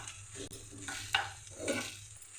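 Garlic paste sizzles in a pan of soya curry while a spoon scrapes and stirs it in a few uneven strokes, moderately close and with no voices.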